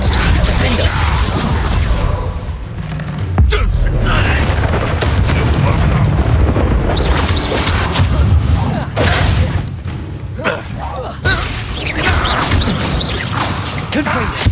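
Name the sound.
Confringo fire spell explosion, from video game Hogwarts Legacy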